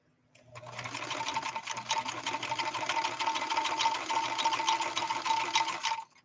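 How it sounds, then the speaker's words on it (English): A 1970s Kenmore 158.13520 sewing machine runs a stretch blind hem stitch in one loud, continuous whirring stretch of about five seconds, starting and stopping cleanly. "Let's sew this stretch blind hem stitch one more time"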